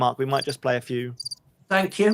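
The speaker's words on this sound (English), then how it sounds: "You might be able to blimey." hear the crickets in the background now." Cricket chirping sound effect played from a soundboard during a summer live stream, a short high trill heard in a pause between a man's speech.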